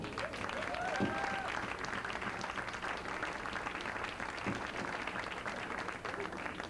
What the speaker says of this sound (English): Let's get another round of applause for the children.